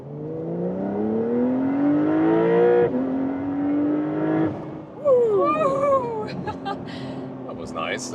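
A Porsche 911 Carrera S 992.2 in sport mode accelerates hard, its engine note climbing through gears with clear shift breaks, then fading under cabin noise and a few faint voices.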